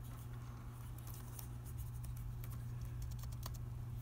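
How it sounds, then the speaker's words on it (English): Soft, irregular key taps on a computer keyboard as a short word is typed for a sign design, faint and close over a steady low background hum. "I'm going to type in YouTube"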